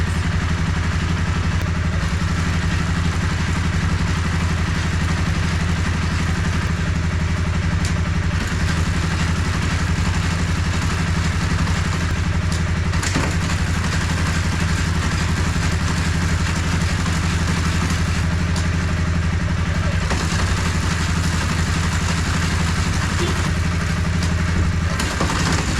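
A cheap used motorcycle's engine idles steadily and evenly for nearly half a minute, close and continuous with a faint mechanical clatter over the low drone and no talking.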